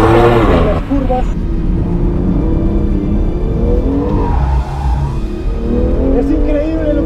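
A BMW M2 Competition driven hard through curves, its engine roaring loudly and steadily with revving shifts and some tyre noise throughout, while someone talks over it.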